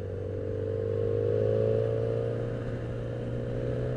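A Yamaha FZX750 Fazer motorcycle riding near Endorf in the Sauerland, its engine a steady droning hum with a slight swell in the middle, close and continuous, no talking.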